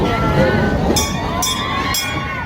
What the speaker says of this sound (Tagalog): ito na yung train namin sasakyan